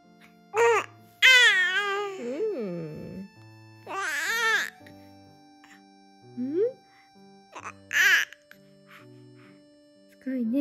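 A three-month-old baby babbles and coos in bursts of high, sing-song vocal sounds, close by, with short pauses between phrases and an adult voice now and then.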